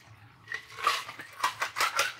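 A cocktail poured from a mixing vessel into a frosted large coupe glass, heard as a short run of close, bright splashes and glassy clinks that come in uneven bursts, with no talking.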